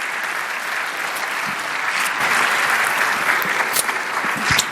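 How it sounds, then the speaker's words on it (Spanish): Conference audience at an annual investment strategy event applauds continuously for nearly five seconds, a dense, fairly loud clatter of hands that swells slightly toward the end, with no talking. "Un aplauso para ellos, por favor."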